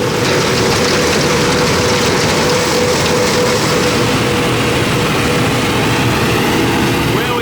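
A tractor engine drones loud and steady during peanut picking on a farm, a continuous low rumble with a faint tonal hum, the machine running alongside a peanut picker for the whole stretch.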